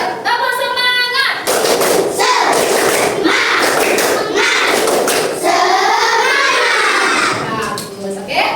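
An Indonesian primary-school class performs a rhythmic spirit clap, with bursts of children's hand claps and chanting voices filling a classroom. The claps are loud and close and run steadily for several seconds.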